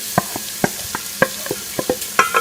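Chopped onions hit hot melted ghee in a pan. A soft, steady sizzle runs underneath, with repeated sharp clinks and scrapes of a spoon stirring at irregular intervals.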